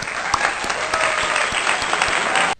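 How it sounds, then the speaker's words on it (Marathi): A crowd at a Marathi political gathering breaks into loud, sustained applause. The clapping is dense and continuous, with some sharper individual claps standing out before it cuts off abruptly. "सर्वांनी आधी ना टाळ्या वाजवून घ्या"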